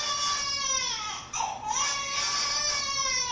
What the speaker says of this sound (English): Get her used to the sound of crying.